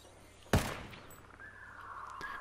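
A single rifle shot from an LVOA-C in Ghost Recon Wildlands cracks sharply and trails off into a short fading echo, followed by quiet ambient outdoor sound.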